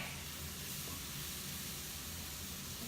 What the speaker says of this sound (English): what we're doing here is just sauteing, and that is plenty